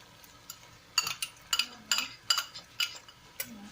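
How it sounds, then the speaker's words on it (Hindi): Spoon clinks against a metal cooking pot as ghee and ginger garlic paste go in for nihari, a series of sharp metallic taps and scrapes at an irregular pace, fairly close, with no talking. "अब मैं इसमें डालूंगी घी, और साथ ही अदरक लहसुन का पेस्ट।"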